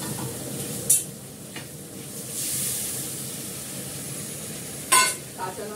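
Fish hits hot oil in an aluminium wok and sizzles with a steady, close hiss, broken by a few sharp spitting bursts. The frying runs under quiet background noise.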